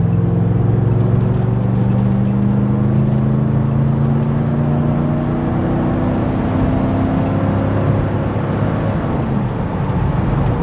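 A 1998 Mercedes C43 AMG V8 accelerating at half throttle, a loud, smooth engine roar that rises steadily through the revs and then eases off, heard from the cabin without any speech.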